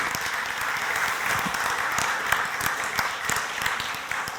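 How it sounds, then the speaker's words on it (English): Steady, moderately loud round of applause from a church gathering for the gardening team, many hands clapping continuously throughout. "Round of applause for the gardening team and for Susan and David."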